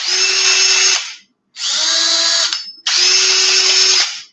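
Two cordless power drills, a 12-volt and an 18-volt, run in three separate loud bursts of about a second each, giving a steady high whine with short pauses between the bursts.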